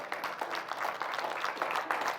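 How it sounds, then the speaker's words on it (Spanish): Church congregation applauding for the Lord during a Spanish-language service, a steady, fairly faint wash of many hands clapping together without pause. "Le doy un aplauso al Señor, hermano."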